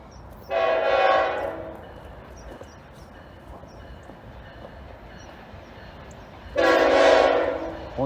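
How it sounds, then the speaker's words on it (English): A CSX or NS freight train horn sounds two long, loud blasts several seconds apart as a horn salute over a low rumble of railcars rolling across a trestle. "Horn salute."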